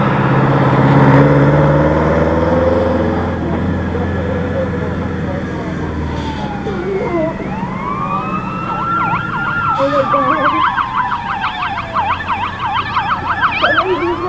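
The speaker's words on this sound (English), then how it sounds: "I hear a siren" Emergency siren wails and yelps at a staged drunk-driving crash scene, rising from a distance to a closer, louder warbling pattern over background commotion and vehicle noise, with voices talking underneath.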